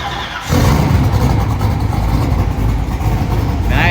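An off-road race car engine fitted with a dry sump system cranks and fires at about half a second, then settles into a loud, steady idle with a rough, throaty rumble.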